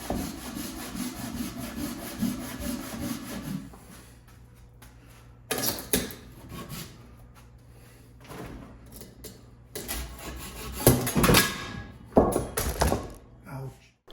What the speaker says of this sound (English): I opted for the handsaw.